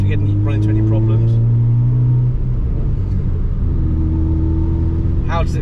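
A Nissan Micra K11 fitted with a new exhaust and induction kit drives along, its engine droning loud and steady and then shifting to a lower pitch after a gear change, with voices talking over it inside the cabin.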